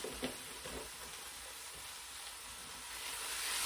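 Chicken tikka masala sizzles steadily in a hot pan as it is stirred, a continuous frying hiss with a few soft scraping strokes near the start, rising slightly toward the end.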